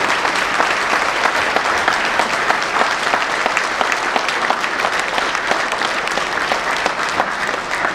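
Loud, sustained applause from a large audience at the Six Sigma Award ceremony, dense and even clapping that carries on without a break for several seconds.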